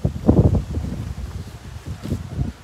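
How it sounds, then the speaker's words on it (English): Gusty outdoor wind buffets the microphone in rumbling, uneven bursts, loud and close, with no talking over it. "It's a bit windy though."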